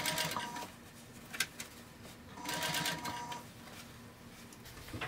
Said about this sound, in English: I'm going to sew past that end and then I'll trim it and finish the binding off the same way I started it.